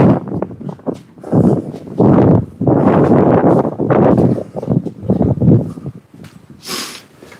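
Heavy wind buffeting a microphone in loud, irregular gusts of low rumbling blasts, separated by brief quieter gaps, at an outdoor protest.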